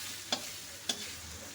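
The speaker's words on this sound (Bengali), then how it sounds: "আবারও নাড়াচাড়া করে দিচ্ছি।" Fish oil frying in a pan as it is stirred, two sharp scraping clicks of the utensil over a faint steady sizzle, close and quiet.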